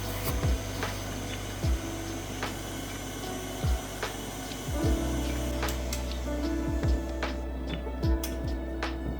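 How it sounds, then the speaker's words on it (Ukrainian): An electric mixer beats three eggs and a pinch of salt at high speed for pumpkin cake batter, a steady whirring hum with repeated clicks and knocks as the beaters hit the bowl. "3 яйця і дрібка солі збиваємо на сильних обертах."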